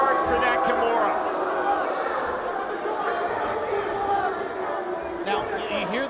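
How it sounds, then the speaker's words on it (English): A crowd at a Bellator MMA fight murmurs and boos in a steady, dense wash of arena noise, with voices talking over it. "Now, you hear some boos from the crowd."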